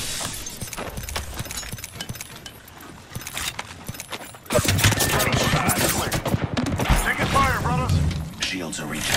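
Rapid bursts of gunfire in an Apex Legends battle, crackling fusillades and mechanical weapon clatter that swell louder midway, with game voice lines calling out over the shooting.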